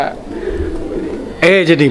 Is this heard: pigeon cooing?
yes